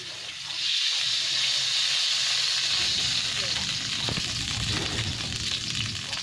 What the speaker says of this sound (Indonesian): Panaskan minyaknya dulu untuk menumis.